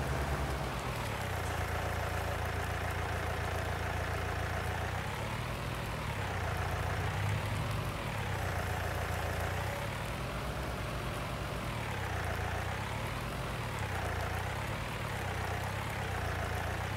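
Tractor engine idling in the farming video game Landwirtschafts-Simulator 19, a continuous heavy low rumble with slowly wavering pitch, steady and fairly loud throughout.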